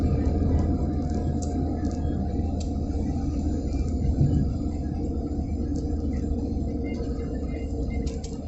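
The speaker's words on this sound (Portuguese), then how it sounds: "o caminhão colando em mim aqui" A heavy truck tailgating close behind a car rumbles loudly and steadily, its deep engine and road noise continuous throughout with no talking.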